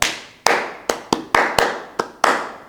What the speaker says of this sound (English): as I started that clap, you knew